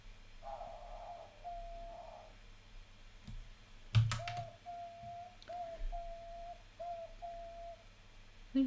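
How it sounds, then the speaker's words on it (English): A pet bird named Dorian Gray chirps indoors in a series of short, thin, repeated calls at moderate distance, with a few clicks and knocks from nearby activity in between. "You can hear my little bird."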